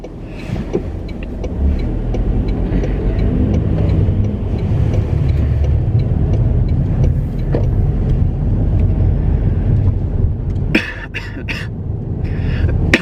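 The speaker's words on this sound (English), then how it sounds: "I'm just gonna be driving back home now." Steady low road rumble of a car driving, constant and fairly loud throughout, with a brief higher whirring near the end.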